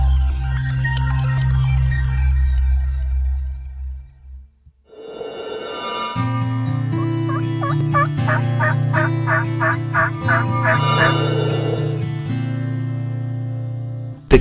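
Wild Merriam turkeys gobble in a series of loud, rapid rattling calls, close and prominent, with more than one bird answering over a steady low musical bed.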